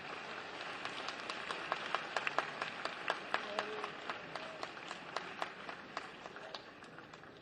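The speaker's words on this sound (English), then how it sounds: "May we have a huge round of applause for sir." A large gathering at an international conference of chief justices gives a round of applause, a faint, fairly distant patter of clapping with distinct individual claps standing out across several seconds.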